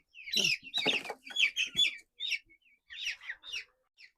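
Brahma chickens make a string of short, high, close cheeping calls in irregular bursts against a quiet background.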